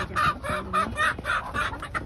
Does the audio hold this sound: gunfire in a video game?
no